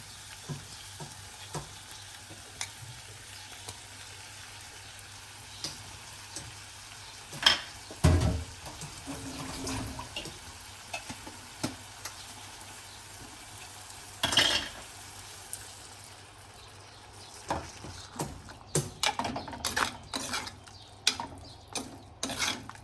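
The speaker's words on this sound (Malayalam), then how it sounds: "പിന്നെ നമ്മൾ നേരത്തെ അരച്ച് വെച്ചിരിക്കുന്ന ഈ ഒരു അരപ്പ് നമുക്കിതിലേക്ക് ചേർക്കാം" Ground masala paste stirred into a pan of frying fish head curry, with a quiet steady sizzle and occasional scraping and clinking from stirring, close and faint, no speech.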